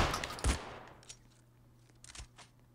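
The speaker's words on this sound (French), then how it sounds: "C'est son gros shotgun." Shotgun blasts in the Roblox game Murder Mystery 3 at a fairground map: one loud sharp shot with a decaying tail, followed by fainter, scattered bangs, with no talking.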